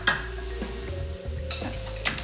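A knife chops garlic on a cutting board in a kitchen, giving a few sharp, irregular knocks up close against a quiet background hum, without talk.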